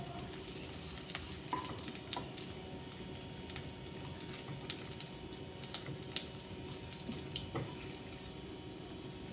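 Cauliflower pieces fry in hot oil with a soft, steady sizzle and faint crackle, quiet and unbroken throughout with occasional light clinks, no voices.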